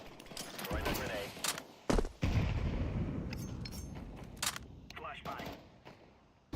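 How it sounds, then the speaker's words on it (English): Counter-Strike 2 match with a smoke grenade and a frag grenade thrown, heard as a burst of sharp gunfire cracks and thumps, then a loud blast and a sustained hissing rumble, with someone talking over it. "Laying down smoke. Throwing a grenade."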